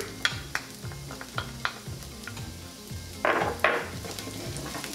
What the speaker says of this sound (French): j'ai mis mes 3 cuillerées à soupe d'huile d'olive dans ma grande poêle